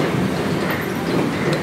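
A passenger train rumbles with a steady clatter of wheels on rails at a station, close and continuous over a short stretch, with no talking.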